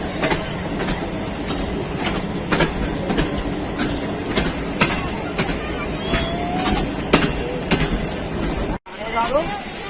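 A Pakistan Railways railcar train rolls past on a single-line track near Chak Pirana, Kharian, with rhythmic clickety-clack of wheels over rail joints, loud and close, with a faint wheel squeal.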